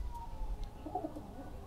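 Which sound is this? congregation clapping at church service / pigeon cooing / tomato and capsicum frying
pigeon cooing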